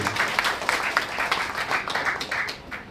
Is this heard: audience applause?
yes